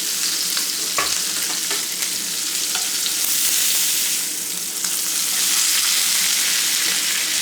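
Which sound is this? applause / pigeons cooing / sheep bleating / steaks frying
steaks frying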